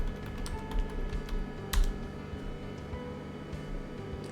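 Computer keyboard keys clatter in quick, uneven bursts of close, light taps as a search phrase is entered, with a faint background hum and no talking.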